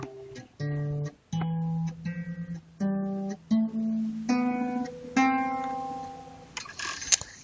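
A guitar plays the major scale one note at a time, each plucked note ringing clearly and stepping upward in pitch, with no voice over it.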